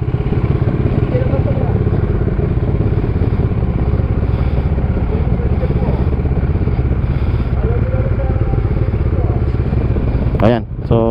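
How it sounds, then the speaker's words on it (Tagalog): A motorcycle engine drones loud and steady while riding through traffic, a continuous close hum with a short higher whine near the end. "napainit ko naman na tong aking motor"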